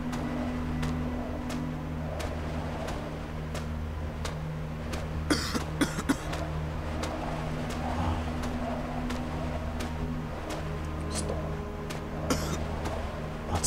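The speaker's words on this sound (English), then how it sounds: "Stop coughing, you're making me nervous." A character coughing in the video game Penumbra: Necrologue, heard as a few short, fairly close coughs over a steady low game drone, with no talk.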